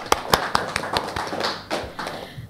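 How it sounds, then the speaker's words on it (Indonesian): Scattered handclaps from a small audience at a morning Nutanix Cloud Talk business event, a few sharp, irregular claps heard fairly close with no talking. "Mungkin biar semangat kita tepuk tangan dulu semuanya."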